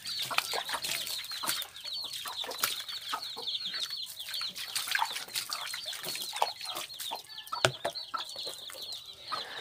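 Chickens and chicks cluck and peep continuously on a farm, a busy, faint, mid-distance chatter of overlapping calls with occasional wing flaps and clatter, no talking.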